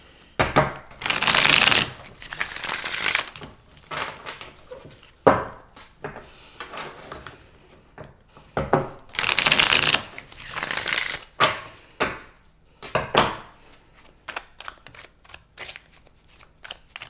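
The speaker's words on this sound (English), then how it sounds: "I'm going to pull all the cards and then we're going to go through each of them." A deck of tarot cards being shuffled in repeated bursts of riffling and flicking, with short sharp taps and pauses between rounds, close and fairly loud with no talking.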